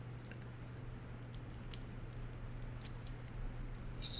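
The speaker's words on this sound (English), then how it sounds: "am I hearing rain again outside our studio?" Steady rain falling outside a broadcast studio during severe storm coverage, a continuous soft patter and hiss with faint scattered drips, fairly even throughout and slightly stronger near the end, with no talk.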